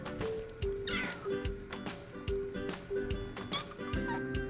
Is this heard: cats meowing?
yes